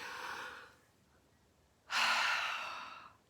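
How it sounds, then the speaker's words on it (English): A single deep breath drawn in and then let out: a soft broadband inhale that fades into a pause, followed by a louder, longer exhale sigh, close and alone. "let's take in one deep cleansing breath"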